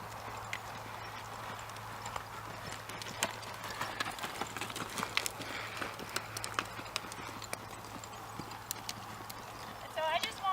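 A horse lopes in a circle, its hoofbeats a steady, rhythmic clip-clop at moderate distance throughout, with faint background noise.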